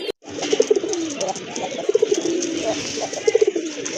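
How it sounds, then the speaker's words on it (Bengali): Large pigeons at a pigeon seller's coo in repeated soft, rolling phrases nearby, under someone talking. "বিশাল এক সাইজের পায়রা কবুতর"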